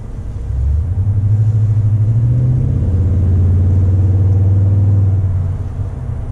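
A 2019 Toyota Tundra TRD Pro pickup engine runs loud while driving, producing a deep steady rumble that swells slightly as it pulls, heard from inside the cab with no voices.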